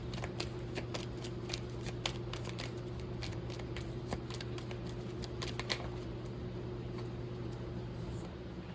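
A handmade deck of cards being shuffled: dense, fast riffling and flicking clicks running steadily through the whole stretch, over a constant low background hum.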